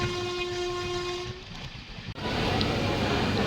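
A passenger train at Bardhaman station, its horn sounding as a steady loud tone for over a second, over continuous rumbling rail and carriage noise, followed by a brief dip and then broadband clatter.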